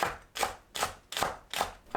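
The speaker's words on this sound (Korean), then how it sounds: "파를 둥글게 썰어줍니다." Green onion is sliced into rounds with a knife, making five quick, crisp thuds at an even pace of about two per second, close up and alone.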